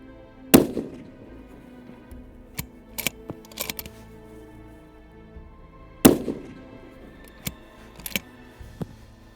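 Two loud, sharp rifle shots about five seconds apart, each with a short ringing tail, separated by faint clicks and small knocks nearby; breezy outdoor range at 300 metres.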